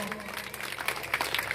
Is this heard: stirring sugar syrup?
no